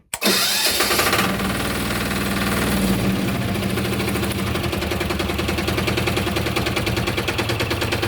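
A walk-behind tractor that survived a fire cranks briefly and catches, then settles into a steady, loud, close, rapidly chugging idle that runs without a break.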